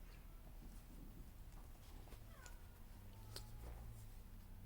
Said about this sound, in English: I don't want my cats meowing through this whole damn video